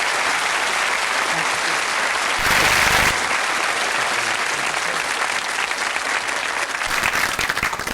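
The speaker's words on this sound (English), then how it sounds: "Please clap hands to them" Studio audience applause, a dense steady wash of clapping hands that swells briefly louder partway through, with no voices over it.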